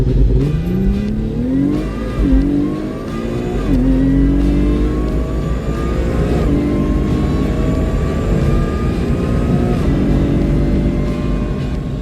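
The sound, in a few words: supercharged car launching on drag strip with street tires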